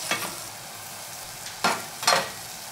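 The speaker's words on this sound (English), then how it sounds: "I'm cooking until this beef is thoroughly cooked." Beef fries in a pot as the base for a spicy soft tofu stew: a low, steady sizzle broken by several sharp scraping bursts as the meat is stirred.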